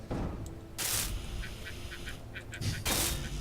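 A phone makes a noise that sounds like a duck quacking: a run of short, quack-like electronic blips between bursts of harsh broadband noise.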